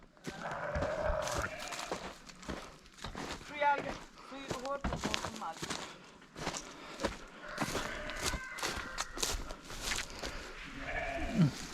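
Sheep and goats bleat repeatedly in a village farmyard, several close calls scattered among shuffling, footsteps and knocks, while people talk nearby.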